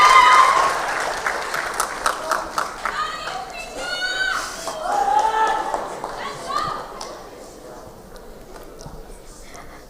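An audience at a stage show applauds performers, clapping mixed with cheers, whoops and children's voices that swells early, then thins and fades toward quiet.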